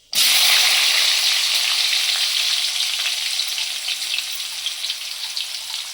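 Onions drop into hot oil, and the sizzle bursts in loud and close, then runs on as a dense, steady hiss that eases slightly over the following seconds.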